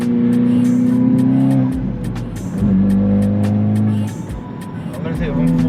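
Engine note of a Hyundai i20N from inside the cabin, a steady drone that drops briefly as the driver shifts from fourth to fifth without heavy throttle, then settles again; people talk over it.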